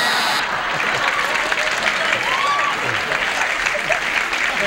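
Studio audience applauding, a dense steady clatter of many hands clapping for several seconds, with faint voices mixed underneath.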